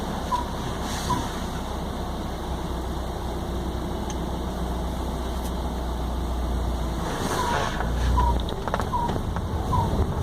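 A car engine rumbles low and steady as a learner driver releases the clutch in first gear and pulls away, swelling slightly near the end, with faint birds chirping in the background.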